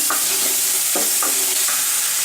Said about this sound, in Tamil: இந்த வெங்காய தக்காளி சீக்கிரமாக வதங்கி வெந்துடும்.